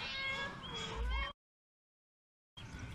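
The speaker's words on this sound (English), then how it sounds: "this is a cat" A cat gives a single drawn-out meow, close and clear, followed by a short silence and then a second brief meow.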